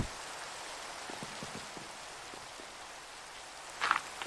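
Rain in the video game Minecraft falls as a soft, steady hiss at low volume, with faint scattered patter and a brief small clatter near the end.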